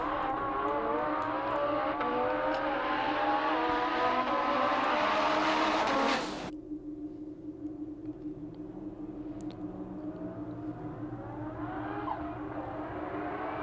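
A Lamborghini and a blue Audi roll racing in Australia: a loud, rising engine scream climbs steadily for several seconds, then cuts off abruptly, leaving a quieter steady engine drone and distant traffic noise.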